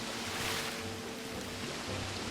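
A waterfall in the video game Psychonauts 2 makes a steady, even rushing roar of falling water, continuous and moderately loud with no voices over it.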